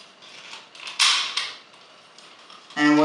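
A Dino Charger slides into a Power Rangers Dino Charge Stego Zord toy, pushed home by a small sliding lever on the underside. The plastic scrapes and clicks, then ends in a loud, buzzy mechanical creak.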